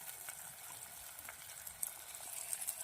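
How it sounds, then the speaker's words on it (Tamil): Green chilies fry quietly in a pan as part of a snake gourd poriyal, giving off a faint, steady sizzle with small crackles and an occasional stir. There is no talking. "பச்சை மிளகாய் போட்டு கொஞ்சம் நல்லா வணங்கட்டும்"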